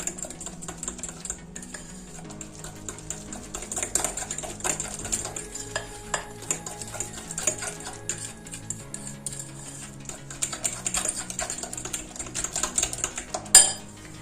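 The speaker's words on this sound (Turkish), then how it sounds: "Üzerine bir çay bardağı pudra şekeri ilave ediyorum. İyice karıştırıyorum." Eggs are whisked with powdered sugar in a bowl for lemon turmeric cookies, with quick, irregular tapping and clinking of a utensil against the bowl over a quiet background.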